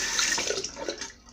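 Cold water runs steadily from a tap during a shave, a close, continuous hissing gush that softens slightly toward the end, with no voices.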